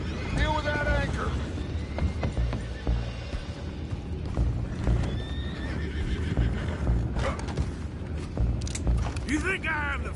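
Horses whinny and hooves clatter in a video game scene, several sharp neighs rising over a busy backdrop of movement, rumbles and mechanical noise, with voices talking at times.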